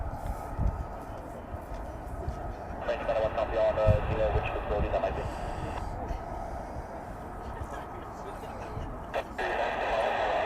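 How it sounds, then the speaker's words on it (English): Several F-35 fighter jets run their engines at RAF Lakenheath, a steady distant roar that swells and holds without letup, with occasional voices nearby. "There's more F-35s running than what's just come in"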